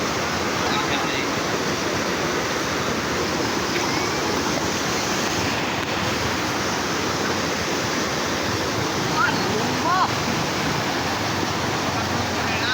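Loud, steady rushing water roars continuously, a dense broadband wash like a fast river, with faint voices now and then beneath it.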